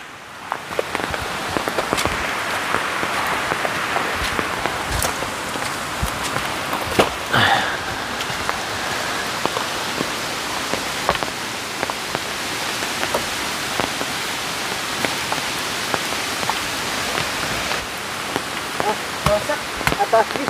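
Heavy rain falls steadily in a forest, a dense close patter on surfaces with occasional sharper drips and knocks mixed into the constant wash.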